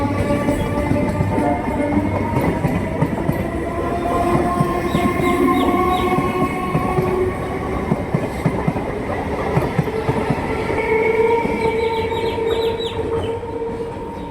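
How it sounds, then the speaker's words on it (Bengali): A passenger train running from Gede to Ranaghat rolls past close by, a loud sustained rumble of wheels on rails with rhythmic clattering and metallic squeals from the carriages, no talking. "গেদে থেকে একটা ট্রেন আসলো, এটা রানাঘাট যাবে।"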